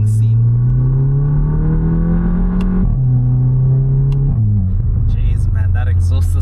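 A tuned Stage 1+ VW Polo GTI with the EA888 engine and an aftermarket exhaust pulls hard under acceleration, a loud steady engine drone rising in pitch with brief dips at gear changes, heard from inside the car under continuous speech.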